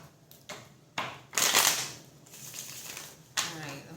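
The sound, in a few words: shuffling tarot cards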